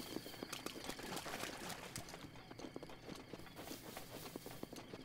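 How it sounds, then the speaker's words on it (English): Several horses' hooves clip-clop in quick, uneven rhythm across open ground in the video game Zelda: Breath of the Wild, quiet and somewhat distant, with no talking over them. "Yeah, those are horses."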